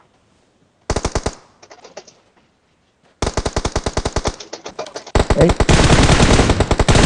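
Automatic gunfire in a PUBG Mobile battle: loud rapid bursts of shots separated by short pauses, ending in a sustained heavy barrage, with a brief spoken word between bursts.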